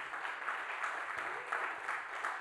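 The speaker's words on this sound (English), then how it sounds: "Clap your hands like somehow the break came." Distant, muffled congregation clapping at a church service, a continuous soft patter of many hands with slight swells, heard faintly from across a large room.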